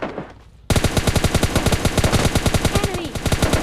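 Rapid automatic gunfire from shooting bots in PUBG Mobile Lite, a fast steady stream of loud close shots that bursts in after a brief quiet start and runs without pause.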